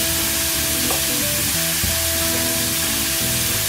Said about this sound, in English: we're going to go ahead on and throw our onions on top of it